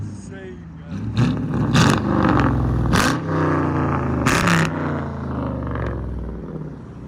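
Chrysler 300C 5.7L HEMI V8 revving through an aftermarket exhaust, sharp loud blips and rising bursts over a deep burbling idle, close by, with voices talking between revs.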